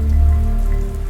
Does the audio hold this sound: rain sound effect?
yes